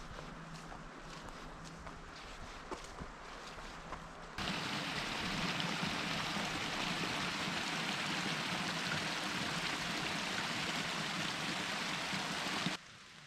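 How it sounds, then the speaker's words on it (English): Light drizzle falls on a forest hiking trail in Olympic National Park near Sol Duc Hot Springs: a quiet stretch with soft footsteps gives way to a sudden, steady, loud hiss of rain that lasts until it cuts off near the end. "has started drizzling, so we'll see how this hike goes."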